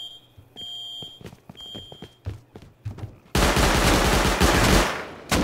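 Pistol gunfire in Rust during an arena round: sharp separate shots and short bursts over an alarm-like tone, then a dense, loud stretch of rapid overlapping fire in the second half.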